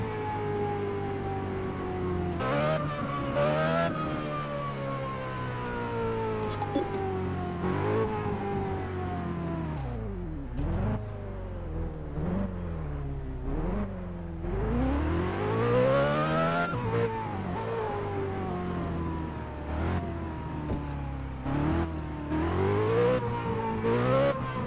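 Ferrari sports car driven in the racing game Test Drive Unlimited 2, its engine loud and continuous throughout, climbing through revs, dropping on shifts and surging again, with brief tire squeal and no talking.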